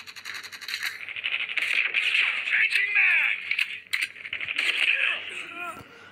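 Gunfire in the Call of Duty video game comes as a dense stream of crackling shots and metallic pings, with several rapid bursts and short pauses, loud and close throughout.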